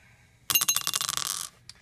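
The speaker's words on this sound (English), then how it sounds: "So let's roll the dice." Dice rolled for a GMT US Civil War board game: a quick clattering burst of several hard clicks for about a second, ending with one small tap after a brief pause, close and clear.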